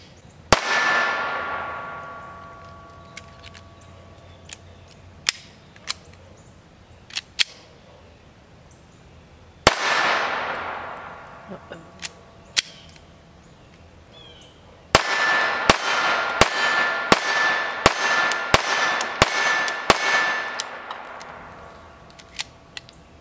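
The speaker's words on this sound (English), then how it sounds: "we're going to be shooting Federal Match 40 grain as a function test" Walther PPK/S .22 LR pistol firing Federal Match 40 grain rounds: three separate sharp gunshots, each ringing into a long fading echo, then a faster run of close, loud shots in quick succession.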